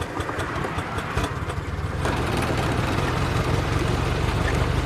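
A Ford Model T engine rumbles close by, its low chugging idle rising into a fuller, louder drone partway through as the throttle opens, with road and wind noise underneath.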